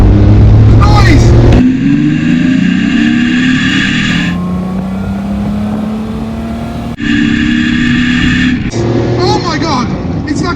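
A Jaguar E-Type V12 Roadster roars loudly and close as it accelerates hard, its engine note climbing steadily and then dropping sharply at a gear change before rising again.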